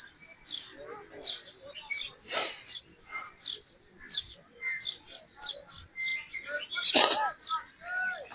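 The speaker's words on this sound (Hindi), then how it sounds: "और परिंदों के चहचहाने की आवाज़ों को फील करें।" Birds chirp and tweet in short repeated bursts, fairly soft and spread across the clip, with a faint murmuring voice in the background during an outdoor-feeling yoga relaxation session.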